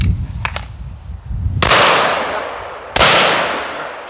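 Colt Python revolver or Ithaca 12 gauge shotgun fired outdoors, two loud sharp shots about a second apart with long echoing decay, preceded by faint handling clicks.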